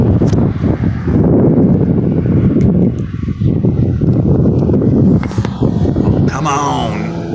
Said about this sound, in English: I'm trying to get out of this wind, it's freezing.